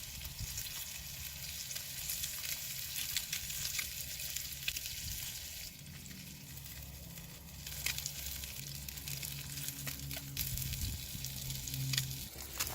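Fish sizzles and fries in a stainless steel pot over a campfire, a steady crackling hiss running throughout with occasional scraping as pieces are turned with a small titanium utensil.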